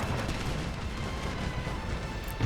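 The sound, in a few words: mortar fire in the video game Empire Total War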